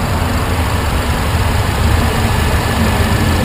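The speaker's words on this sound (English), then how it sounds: "You got your four-cylinder supercharged engine." The four-cylinder supercharged engine of a 2012 Mercedes-Benz C250 runs at a steady idle, a constant broadband rumble and whoosh heard close and loud with no talking.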